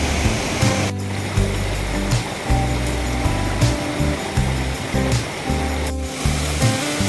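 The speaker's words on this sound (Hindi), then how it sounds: "दिखाते हैं आपको जो मेन वाटरफॉल है उसका नज़ारा" Pawa Waterfall in a green forest near Shivpuri, about 100 feet high, sends up a constant loud rush of falling water beneath rhythmic background music.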